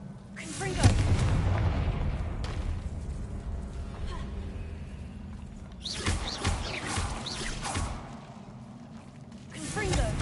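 Confringo blasting spells go off in Hogwarts Legacy, with several booming fiery bursts and broadband crackling blasts, loudest near the start and again around the middle and end, under game noise and occasional speech.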